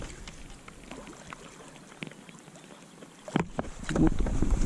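A boat motor keeps running on open water during an early-season predator fishing trip, giving a steady low droning rumble with wind buffeting. Louder splashing and handling noises build near the end.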